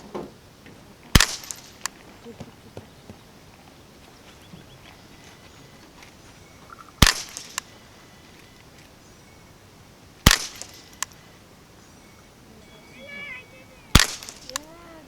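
A Ruger 10/22 semi-automatic rifle firing CCI Quiet .22 rounds at a 50-meter target, four separate sharp, quiet cracks spaced several seconds apart over faint outdoor background.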